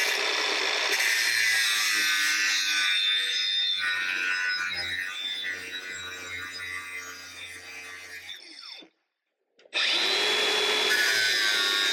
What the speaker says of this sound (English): We have 2 hands on the angle grinder.